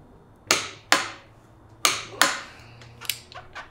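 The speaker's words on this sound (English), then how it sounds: "Next, we're going to tighten the upper bolts to 19 foot-pounds." Upper fork bolts on a Yamaha Super Ténéré being tightened to 19 foot-pounds, heard as four sharp, close metallic clicks in two pairs, followed by a few fainter ticks, with no voices.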